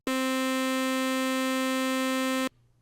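Sustained synthesizer lead tone with oscillator sync engaged, a bright buzzy harmonic-rich note held steadily for about two and a half seconds, then cut off abruptly, leaving a faint low rumble.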